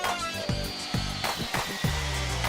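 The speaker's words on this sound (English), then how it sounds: "I used a palm sander and a couple of grits to get the board smooth" A palm sander works a pine board for a porch baseboard, giving a steady motor whine under rhythmic scraping strokes that repeat roughly twice a second, close and moderately loud.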